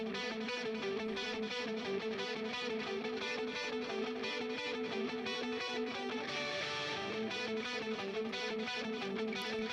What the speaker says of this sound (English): we have two lead guitars from earlier in the song coming back in the outro